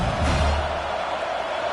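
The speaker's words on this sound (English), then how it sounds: "how nice is it to have the home crowd going absolutely bananas" Home football crowd roaring at a game, a dense, loud and steady wall of cheering that holds for the whole stretch.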